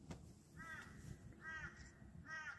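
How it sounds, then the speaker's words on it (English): Magpie at a riverside campsite giving a few harsh, nasal calls spaced about a second apart, fairly faint and slightly distant over quiet outdoor background. "Mr. Magpie. What are you looking for?"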